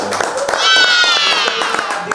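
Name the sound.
applause for student award winners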